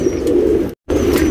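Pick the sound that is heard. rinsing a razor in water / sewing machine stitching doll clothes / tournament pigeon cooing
tournament pigeon cooing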